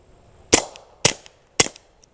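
Three suppressed shots from a .22 GSG Firefly pistol fitted with a 9mm suppressor, sharp muted cracks spaced about half a second apart at close range with short tails.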